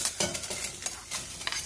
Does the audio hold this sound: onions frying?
yes